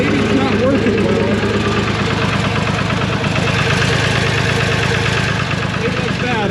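A New Holland L783 tractor engine idles steadily up close, a loud continuous rumble with a fast, even knock-like pulse that holds at the same level throughout.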